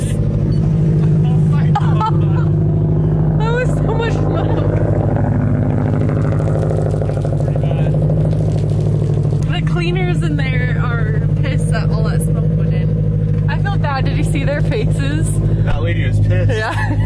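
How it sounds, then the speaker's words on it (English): A car that ran poorly the night before starts up and runs, its engine droning steadily and loudly under people talking throughout. "I'm a little bit nervous on the startup on this car"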